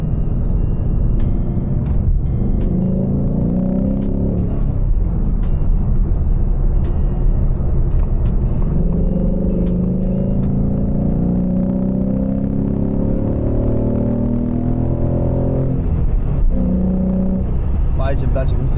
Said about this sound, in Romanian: Vai, ce-mi place cum sună mașina asta.